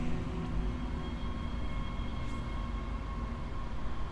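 A tram ride in the sci-fi horror game Dead Space, a steady low mechanical rumble and hum with faint metallic whine, continuous and even throughout with no talking.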